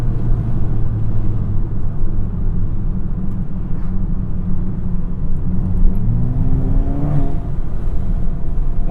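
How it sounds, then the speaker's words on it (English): An APR Stage 3 tuned VW GTI accelerates hard, heard from inside as a continuous loud engine and road rumble with rising pitch through the gears. "Car pulls really hard, really hard."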